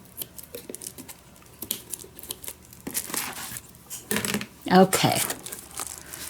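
Paper being trimmed for a journal, irregular crinkles, rustles and cutting snips that are quiet at first and grow louder, with a brief spoken word.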